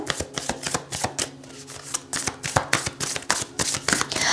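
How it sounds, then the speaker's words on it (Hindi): Tarot cards are shuffled by hand in close, crisp riffles and flicks, a rapid series of papery snaps with short pauses between bursts. "मैं यहाँ पर थोड़े और कार्ड्स लेना चाहूँगी।"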